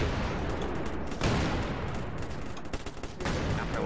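Sustained heavy automatic gunfire and overlapping shots in a military shooter video game, loud and dense throughout with a brief lull near the end, no voices heard.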